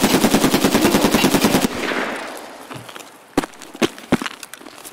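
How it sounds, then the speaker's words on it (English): Rapid automatic gunfire from a raid shooter game, a dense loud burst of evenly spaced shots for the first second and a half, then quieter rustling and a few separate sharp single shots near the end. "Just shoot him in the chest."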